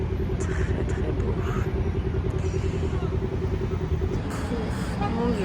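Night-time street traffic at Place de la Bastille in Paris, a continuous rumbling wash of cars and engines with a steady hum, heard from an apartment above the street, with faint higher noises coming and going.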